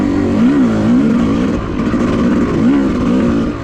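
Yamaha YZ250 two-stroke dirt bike lugging in fifth gear at near-idle speed on a trail, giving a loud, close, continuous low engine drone with gentle wavering in pitch and no talk.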